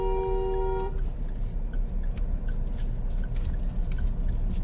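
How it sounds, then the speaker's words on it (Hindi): A short, steady car horn honk at the start while turning in a narrow lane, then rumbling engine and road noise with faint clicks. "लॉन्ग हॉर्न प्रेस करिए। हॉर्न थोड़ा बजाया करिए"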